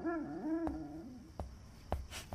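A dog whimpers in a high, wavering whine in a home, followed by a few soft thumps and rustles close by.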